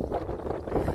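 Gusty wind buffets the microphone outdoors on a warm sunny day in the south of France, a steady low rumbling roar with slight surges through the whole second and no voices.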